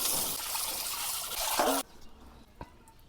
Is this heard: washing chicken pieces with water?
yes